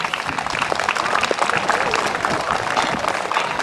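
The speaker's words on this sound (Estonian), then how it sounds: "teeme siis meie esimestele seda tõugu külalistele ühe ilusa suurema aplausi" Audience applause at a presentation of pig breeds at a livestock show, steady dense clapping from a crowd throughout, fairly loud, with some voices mixed in.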